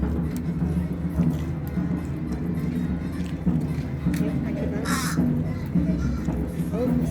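Seagulls squawk while fighting over food at an outdoor spot at Epcot, with a few harsh calls rising out of steady background noise and people talking throughout.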